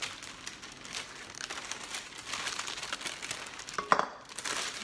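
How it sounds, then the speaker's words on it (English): A beeswax-coated fabric food wrap being peeled back by hand, giving soft crinkling and crackling that builds to a sharper tear-like crackle near the end, close and fairly quiet. "peel back your top layer"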